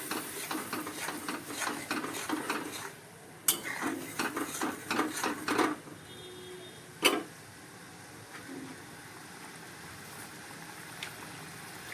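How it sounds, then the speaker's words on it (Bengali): Rhythmic spatula scraping and clinking in a pan while sautéing with jaggery batasha, quick repeated strokes for several seconds, then a sharp clank and quieter pauses. "এবার ভালো করে কষিয়ে নিই"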